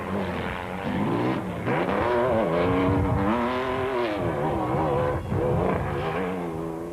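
Raceco off-road race cars in the 1997 Roof of Africa rally, engines revving loudly and continuously nearby as they climb and change pitch, with no one speaking.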